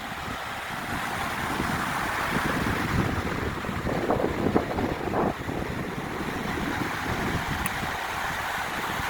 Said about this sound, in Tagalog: Ang hangin. Ang presko ng hangin.